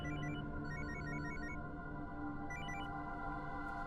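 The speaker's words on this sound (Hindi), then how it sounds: "ए विजय कुमार को फोन लगा।" A telephone ringtone sounds while a call is being placed in a Hindi-dubbed South Indian film scene: bursts of repeated electronic tones ring out over a steady, dense background hum.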